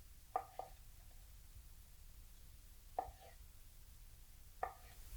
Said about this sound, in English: you take your knife and you just go right down the side like that. Cuts all your tomatoes in half